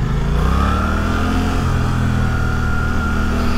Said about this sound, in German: Ich finde das Motorgeräusch ein bisschen befremdlich. Ich weiß nicht, die nagelt so.